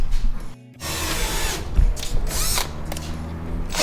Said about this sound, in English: He's over here drilling holes in his nice firewall.